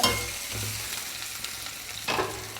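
Onions turn soft in a pot for a mother-style Kerala mutton stew, giving a steady, gentle sizzle with a few stirring scrapes, close by, and a brief louder stir near the end.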